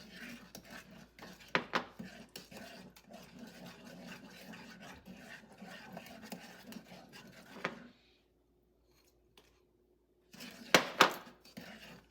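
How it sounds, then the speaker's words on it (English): Apple pie filling with brown sugar is stirred with a utensil, giving light clinks and scrapes against the pot in an uneven rhythm. A few sharper knocks stand out, followed by a short quiet gap and a final cluster of clinks. "And then just continue stirring it."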